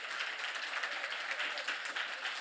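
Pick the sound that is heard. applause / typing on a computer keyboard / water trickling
applause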